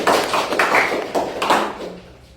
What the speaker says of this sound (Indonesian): Coba beri tepuk tangan untuk Rapli.